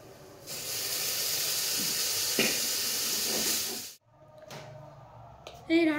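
Water splashed into a pan of frying food bursts into a loud, steady steam hiss for a few seconds, then drops to a quieter sizzle with a few faint kitchen sounds.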